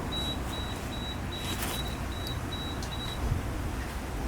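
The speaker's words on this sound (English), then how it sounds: "That's the alarm telling me that the lid is off." A Weber grill alarm sounding because the lid is off during a pork ribs cook, a faint, thin electronic beep repeating in an even rhythm about twice a second over steady outdoor background noise.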